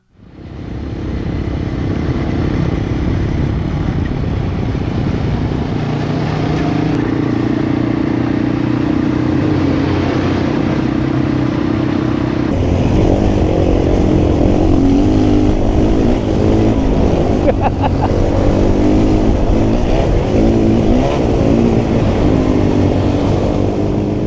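A Royal Enfield Himalayan 450 and a CFMOTO 450 MT ride off-road, their engines droning steadily and loud throughout, with the pitch rising as the riders open the throttle partway through.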